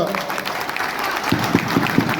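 Applause breaks out from an audience at a political gathering, with a few sharp, evenly spaced claps standing out near the end over a steady crowd wash.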